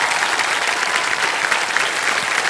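Dense, continuous applause from a television studio audience, loud and steady throughout with no break.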